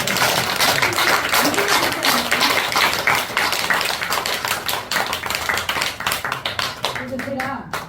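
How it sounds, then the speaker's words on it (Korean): A seated audience at a talk on tea and health claps together in a lively, loud burst of rhythmic applause that gradually breaks into individual claps, with voices calling out over it toward the end. "박수."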